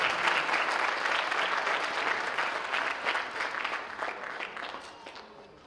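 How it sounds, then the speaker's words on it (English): School awards audience applauding steadily, a dense even wash of clapping that gradually fades toward the end. "Let's give her a big round of applause."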